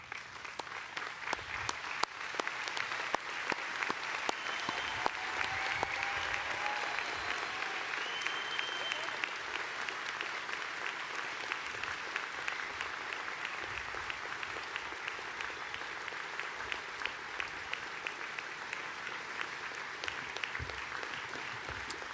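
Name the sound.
audience applause for graduates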